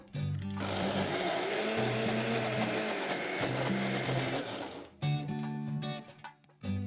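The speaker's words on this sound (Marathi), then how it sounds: "आता आपण मिक्सरला हे सगळं बारीक करून घेऊया." Mixer grinder blending a spice paste of garam masala, red chili powder and ginger-garlic paste for a veg kofta curry, a loud continuous whirring for about five seconds, then stopping and restarting in short pulses.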